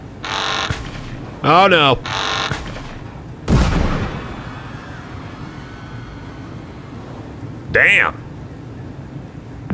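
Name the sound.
gunfire and explosion of terrorist attack in Papers, Please video game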